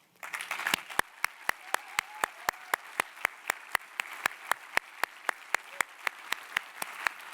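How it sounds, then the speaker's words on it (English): Audience at a Ruby programming conference's closing session applauds, with one sharp, evenly paced clap close by ringing out about four times a second over a softer, fainter bed of crowd clapping. "If you could stand up and we could give them a round of applause also"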